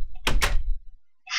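A wooden door in Minecraft opens with two quick, close knocking creaks in succession, followed by silence and then a brief burst of another sound.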